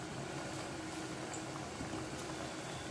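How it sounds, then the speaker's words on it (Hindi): Gujiya cook over low heat in hot ghee in a kadai, giving a faint, steady, even bubbling hiss with no talk. "अब इसमें हम डालेंगे गुजिया, और इसको हम धीमी आंच पर पकाएंगे"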